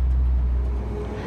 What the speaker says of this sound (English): this thing is driving just phenomenal, shifting great